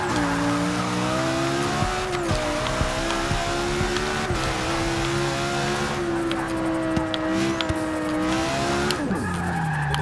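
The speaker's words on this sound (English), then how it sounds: "I drifted way out there" A 1997 BMW M3 on an all-wheel-drive drift build in Forza 6 slides with long, continuous tire squeal over a steady revving engine drone, its pitch dipping and rising through the drift, loud and close throughout.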